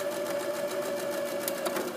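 Sewing machine running steadily while stitching a seam on a drawstring bag, a fast even mechanical whir with rapid needle ticks, close and alone.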